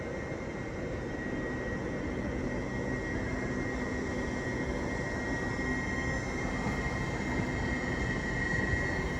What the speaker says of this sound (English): finally heading off after being half an hour late is 801215 on the delayed 11:11 LNER service